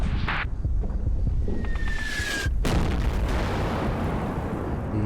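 Artillery shells bursting in the WWII strategy game Combat Mission: Battle for Normandy, a loud continuous rumble of blasts with one sharp crack near the middle and a brief whistling tone before it.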